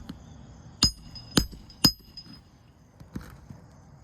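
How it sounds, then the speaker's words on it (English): Three sharp hammer blows in quick succession as a roof shingle is hammered back down, each with a metallic ring, followed by a few softer taps, close by with nothing else around. "just from me hammering this back down"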